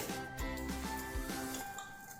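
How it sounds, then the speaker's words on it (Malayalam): Washed rice tipped into a pressure cooker gives soft metallic clinks and scrapes of a utensil against the pot, a few close, quiet knocks over a couple of seconds. "നമ്മളിതൊരു കുക്കറിലേക്കാണ് ഇട്ട് കൊടുക്കുന്നത്"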